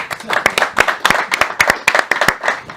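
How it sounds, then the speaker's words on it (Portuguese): An audience applauds at a talk on the art of asking questions, with brisk, close, loud claps in a quick uneven rhythm. "bate uma salva de palmas pro André."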